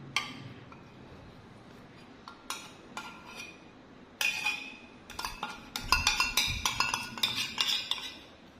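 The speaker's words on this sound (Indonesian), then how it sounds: "Kita aduk rata." Brownie batter for crispy brownies gets stirred in a bowl with a metal utensil, quiet at first and then a rapid run of clinks and scrapes against the bowl that grows louder and busier toward the end.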